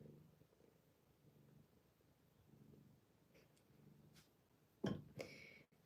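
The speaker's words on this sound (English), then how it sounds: "hear how loud she's purring?" A female cat purrs steadily in a close, rhythmic rumble of repeated breath cycles, fairly quiet overall, with a few brief louder rustling or handling bursts near the end and no talking.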